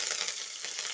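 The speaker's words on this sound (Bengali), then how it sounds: "কারি পাতাটা একটু ফুটবে" Curry leaves, tomato and whole spices like cumin and bay leaf crackling in hot oil on a gas stove, a dense steady sizzle with no talk.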